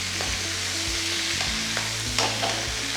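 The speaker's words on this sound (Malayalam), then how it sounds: "നന്നായിട്ടൊന്ന് ഫ്രൈ ചെയ്തെടുക്കുക." Chicken fries in a pan on a high flame, giving a loud, continuous sizzle with the clatter of stirring scattered through it. Nobody talks.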